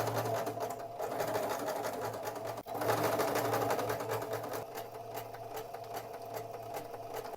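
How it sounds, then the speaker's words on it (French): A sewing machine stitches along a fabric strap about 1 cm from the edge, starting and ending with a backstitch, running as a steady, close, continuous whir with one brief pause partway through. "je pique le long de ma bretelle à 1 cm et je finis par un point d'arrêt"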